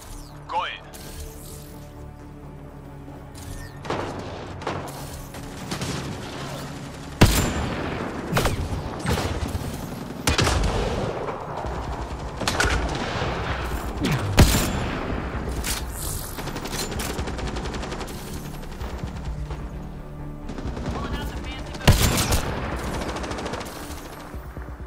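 Rapid automatic gunfire from Mass Effect Andromeda combat, sharp bursts and single shots cracking loudly at irregular intervals over a constant game background, with a voice talking throughout.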